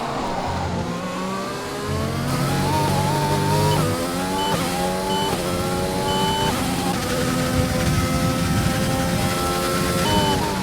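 An F1 car's engine in the racing game F1 2020, loud and close, downshifting into second gear through a hairpin then revving and climbing through the gears with stepped rising whine as the car accelerates out.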